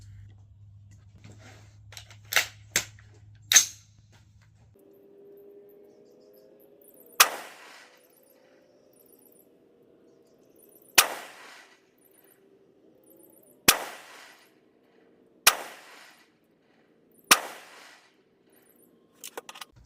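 Rifle shots from a Bear Creek Arsenal hammer-forged side-charging 16-inch 5.56 upper firing Federal Power Shok 64-grain soft point .223 at an outdoor range. A few faint pops come first, then six loud, sharp single shots spaced several seconds apart.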